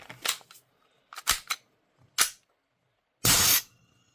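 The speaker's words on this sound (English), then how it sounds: "when you fire it, it's just going to vent the gas" A WE airsoft gas pistol modeled on the S&W M&P fires and vents gas in several sharp pops, ending in a longer hissing burst, close and loud with quiet gaps between.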